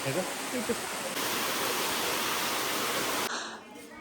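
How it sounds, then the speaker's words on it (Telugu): Steady, loud broadband rush of falling water fills the scene, dropping off abruptly near the end into a thinner hiss. "వాటర్ ఫాల్ సౌండ్ ఎంత మంచిగా వస్తుందో"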